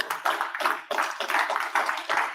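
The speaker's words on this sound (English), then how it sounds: "Let's give him a round of applause as he makes his way up." Audience clapping in a round of applause at a monthly lunch-and-learn gathering, steady moderate clapping with a few swells, fairly close and with no talk over it.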